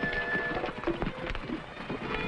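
Horses gallop at a steady run in a 1950s TV Western scene. Hoofbeats drum continuously at a fast, loud clip-clop through the whole stretch, set against a dense layer of outdoor noise.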